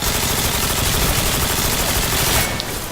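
Sustained automatic gunfire from an MK14 rifle in Call of Duty: Modern Warfare 2, a dense, loud, continuous rattle of shots filling the whole stretch without a break, cutting slightly at the very end.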